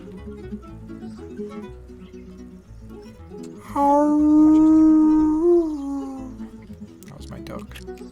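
A dog lets out a long, loud, wavering howl that rises and then trails off into a whimper, heard close over background game music, with a voice talking briefly beforehand.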